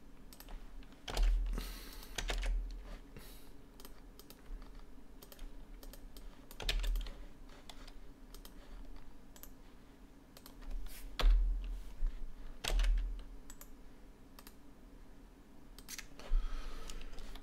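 Quiet, irregular clicking of a computer keyboard being typed on, short bursts of keystrokes spaced by pauses over a low steady hum.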